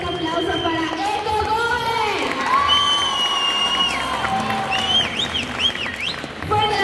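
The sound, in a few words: crowd applause and cheering at costume contest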